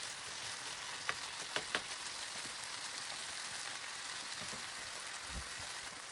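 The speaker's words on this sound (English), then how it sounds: "I'm adding a half chopped capsicum in it, and I'll cook it on high flame till the capsicum gets soft" Half a chopped capsicum frying on high flame, a steady soft sizzle with a few faint clicks and taps of a utensil in the pan.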